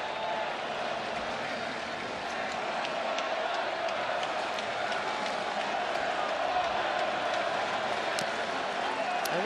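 A baseball stadium crowd at the Athletics' final game in Oakland gives off a sustained, distant roar with scattered claps and occasional whoops, steady in level throughout.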